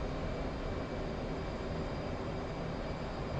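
F/A-18 jet engine in flight in the DCS flight simulator, a steady, loud, broadband roar that holds constant with no other sounds.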